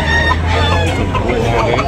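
Rooster crowing at an outdoor gamecock market, a loud close crow rising over crowd babble and other birds, with voices talking throughout.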